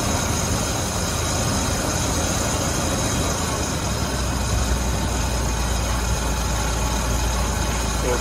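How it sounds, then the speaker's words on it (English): A pickup truck engine idles in a steady, broadband rumble that stays constant throughout, close and without any speech. "the truck's running"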